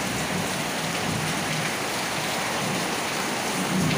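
Heavy rain pours down at Bang Pu in a dense, steady hiss of water striking surfaces, loud and unbroken throughout with no voices.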